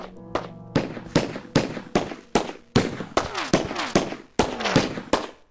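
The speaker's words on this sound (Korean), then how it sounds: "머신건이 작동하고 있네요" A machine gun in the video game Obscurity fires in a rapid, steady stream of sharp, loud bangs, one shot after another without pause.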